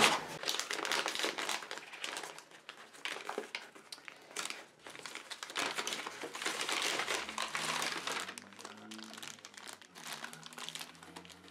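Small plastic sachets holding silicone moulds crinkle and rustle continuously as they are handled close up, with dense crackling bursts and no speech.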